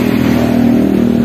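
Yamaha Mio 2007 scooter with modified engine parts and a bored-out exhaust, revving steadily and loudly up close in a constant droning hum.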